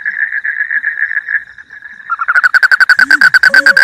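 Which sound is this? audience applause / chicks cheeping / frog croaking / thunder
frog croaking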